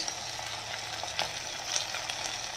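Garlic, green chili, onion and ginger paste fry in hot oil with a soft, steady sizzle and a few faint stirring clicks, heard close but fairly quiet.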